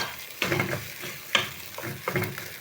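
Boiled fish frying in a pan, a sizzle that swells in short bursts as pieces are moved and stirred, with a sharp scrape or clink near the middle and nobody speaking.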